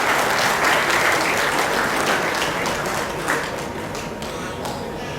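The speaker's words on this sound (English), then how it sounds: "So a big round of applause for these schools as well." Steady applause from an audience at an annual student prize night, dense and sustained for several seconds and easing slightly toward the end, with faint voices underneath.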